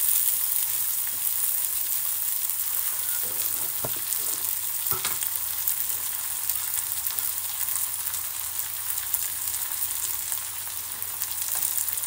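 Poha frying on full flame for kanda poha: a loud, dense, continuous hiss and crackle of hot oil with a few sharp clinks from stirring, no talking.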